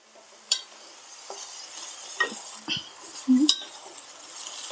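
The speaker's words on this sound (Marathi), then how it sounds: "हे बघा मस्त परतून घ्यायचं" Dry cluster bean vegetable being stir-fried in a pan for a tiffin, with a few soft clinks of the spatula against the pan and a quiet scraping stir under faint household background sounds.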